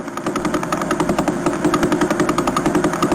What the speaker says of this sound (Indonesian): Lalu yang keempat, suara pulsar.